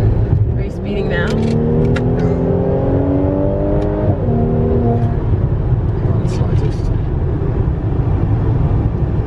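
A car engine revs up and accelerates while driving, its pitch climbing steadily before dropping back to a steady cruising hum, close and loud inside the vehicle.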